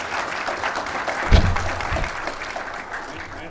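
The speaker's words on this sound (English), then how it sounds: "A big round of applause to Mr. Giri." An audience at a healthcare management conclave claps for a speaker, a moderate burst of applause peaking early and then tapering to scattered claps.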